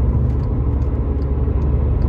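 A damaged VW Scirocco engine that has lost compression runs, making a steady, loud low rumble with a rough, uneven throb, heard up close with no talking.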